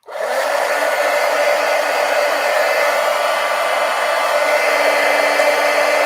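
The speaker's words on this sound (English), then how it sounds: "now I'm going to hit it with the heat gun" A heat gun switches on and blows steadily to dry a piece of artwork, producing a loud, close, continuous whooshing roar with no pauses or talk.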